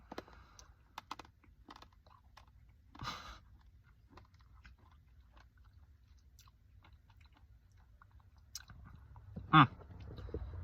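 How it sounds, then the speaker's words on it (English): Lightsaber mints are chewed close to the mic in scattered crunchy clicks and bites, mostly faint, with a brief louder crunch near the end. "And let me chew this."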